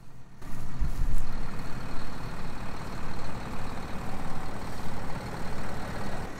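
Tractor engine running steadily during grass silage harvest, a continuous loud diesel drone with dense low rumble throughout, no talk over it.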